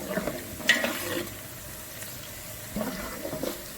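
Onions frying in a pan with garam masala of cumin, cloves and black pepper, a soft steady sizzle broken by brief stirring clatters near the start and end, close and fairly quiet with no talking.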